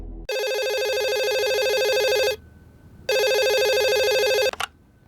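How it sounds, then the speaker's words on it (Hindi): An electronic telephone ringtone trills loudly in two long bursts separated by a short pause, clear and close with no talking. "हेलो सर, वो बल्लू का फोन आया था।"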